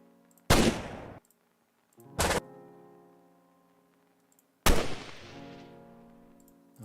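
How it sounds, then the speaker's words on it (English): Three separate bursts of gunfire sound effect from a Roblox video game, each sharp and loud and fading in a short ringing tail, with quiet gaps between them. "Gunfire sound."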